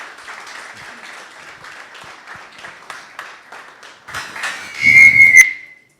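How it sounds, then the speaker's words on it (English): An audience at an electricity regulation conference session claps steadily for a moderator, fairly soft at first, then swells with a loud sustained whistle near the end before stopping abruptly. "A round of applause for him, please"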